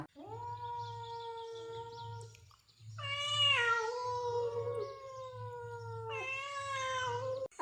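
Two cats yowl and caterwaul at each other in long, rising and falling wails, loud and close, overlapping with low growling underneath.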